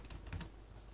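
A few quick, faint keystrokes on a computer keyboard, a short cluster of soft clicks for a copy-and-paste shortcut in a spreadsheet, close but quiet against a low background hum.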